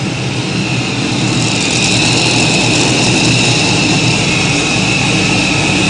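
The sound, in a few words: pulling tractor engine running loud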